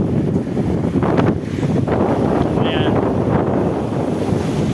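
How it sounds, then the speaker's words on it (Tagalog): Strong sea waves and gusting wind near Matnog, loud and continuous, with heavy wind buffeting on the microphone and surf churning throughout, no clear talk. "Grabe ang lakas ng alon."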